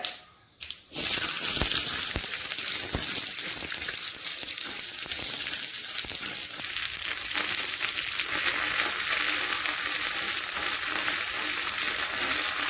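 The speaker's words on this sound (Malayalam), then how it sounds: "ഇനി കടുക് ഒന്ന് താളിക്കാം കുറച്ച് തേങ്ങാ പീസ് അരിഞ്ഞത് ഇട്ട് വഴറ്റാം" Mustard seeds and chopped coconut pieces sautéing in hot oil for a beef curry tempering, a loud continuous sizzle peppered with sharp pops and crackles after a brief quiet start.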